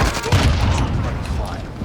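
C4 explosion in a first-person shooter game, a short heavy blast and rumble with crackling gunfire over it, loud and close within a busy battle mix.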